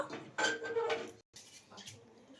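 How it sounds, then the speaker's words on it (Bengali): Boiled Maggi noodles are tipped from a cooking pot into a strainer basket, with close, bright metallic clatter and sloshing for about a second, a brief gap, then softer clinks and dripping. "ম্যাগিটা একটু জলটা ছেঁকে নিচ্ছি, ঝুড়ির মধ্যে দিয়ে দিয়েছি।"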